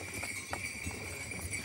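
Wet horses clip-clopping outdoors with faint, irregular hoof clicks over a steady hiss of background noise.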